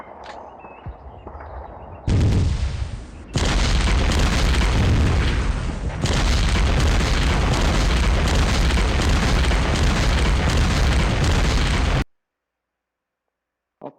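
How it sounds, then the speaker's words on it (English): Artillery shells burst in the wargame Steel Panthers: World at War, a loud sustained roar of overlapping blasts that rumbles on for about ten seconds before cutting off abruptly into silence. "all the artillery missed"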